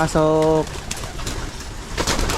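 A racing pigeon at a training session in Pampanga gives one loud, close coo, then people talk and move about faintly in the background.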